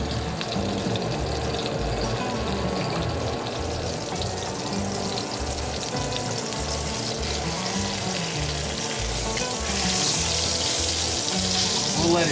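Thin pork chops fry in a pan with a constant crackling sizzle, with faint low clunks underneath and a slight rise in the sizzle near the end; no one speaks.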